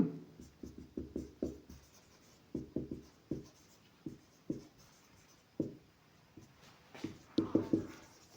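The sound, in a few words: writing a math solution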